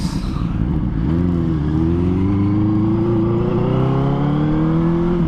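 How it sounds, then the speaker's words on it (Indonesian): Loud three-cylinder engine hum of a Benelli TNT 600 motorcycle rising steadily in pitch as it accelerates, with a thin whining tone above the droning motor, continuous throughout. "dia tuh ada kayak bunyi 3 silindernya loh, kayak ada nguing gitu"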